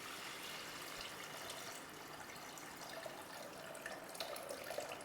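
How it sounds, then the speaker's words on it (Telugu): Water pours steadily into a pulao pot of fried onions and ginger garlic paste, a soft continuous rushing splash with a few brighter drips near the end, fairly faint and with no talk. "4 కప్పులకి 8 కప్పులు పోసుకోవాలి వాటర్"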